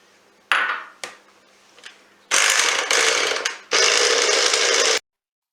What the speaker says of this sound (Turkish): Şimdi yumurtamı ekliyorum ve e, sadece karışana kadar çırpıyorum.